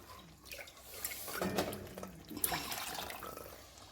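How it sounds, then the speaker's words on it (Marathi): Water is poured into a pot of cooking mutton curry, producing a soft, close splashing and gurgling that swells in the middle and then settles into a faint trickle. "तर मी पाणी टाकून घेते"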